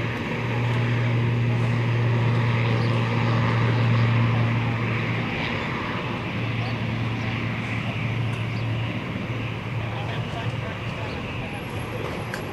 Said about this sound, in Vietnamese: Lào Airlines đã được lệnh cất cánh rời khỏi sân bay Tân Sơn Nhất hướng về sân bay Bắc Xế của Lào